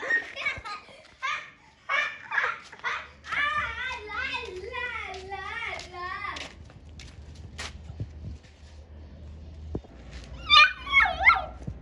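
A pet dog barks, yips and whimpers indoors at a visiting grandparent, with a rapid run of high-pitched barks up close, a quieter pause, then another burst of yapping near the end.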